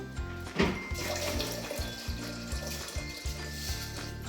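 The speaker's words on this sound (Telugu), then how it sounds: "ఇది ఒక ఫుల్ చెంబు నీళ్ళు పోసాక ఇంకో హాఫ్ చెంబు నీళ్ళు పోయాలి" Water poured from a metal pot (chembu) into a vessel of vermicelli for semiya payasam, a steady splashing gush running for several seconds, close and fairly soft, with no voices.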